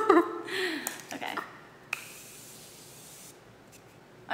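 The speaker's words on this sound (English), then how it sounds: "Should we do one more spray?" Makeup setting spray hisses in a few quick bursts close by, followed by a longer soft spray and quiet rustling, with a voice heard briefly.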